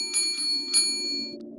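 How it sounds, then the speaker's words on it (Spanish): Bell on a shop door tinkling as the door swings open: a few quick bright metallic chimes ringing over a low steady hum, then fading out into the background. "la campana de la puerta tintineó."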